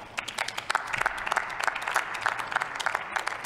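Sustained applause in the German Bundestag, dense rhythmic clapping from many hands filling the chamber at steady volume, with no speech over it.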